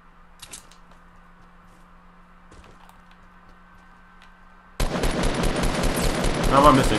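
Fortnite Battle Royale gunfire: a few sparse shots and clatters at first, then a sudden loud, dense burst of rapid automatic fire that runs to the end.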